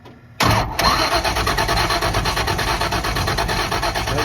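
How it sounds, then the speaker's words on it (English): A car engine cranks repeatedly during a failed cold start with a battery charger hooked up, the starter chugging in a fast, loud, rhythmic churn that begins abruptly and never catches. "Crank it again."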